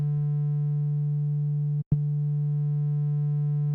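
A steady, pure sine tone from a VCV Rack synthesizer oscillator holds at one pitch, broken by a single brief click and dropout midway before resuming unchanged.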